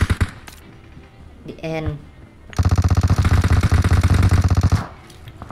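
Rapid automatic gunfire in the video game PUBG Mobile, a loud sustained burst of evenly spaced shots lasting about two seconds after a few scattered louder hits, with players talking over it.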